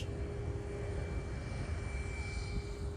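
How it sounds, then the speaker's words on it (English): A Qantas airliner flies overhead, a steady, moderately faint engine drone with a sustained whine, continuous for the whole few seconds with no talk. "There's a Qantas flying right now"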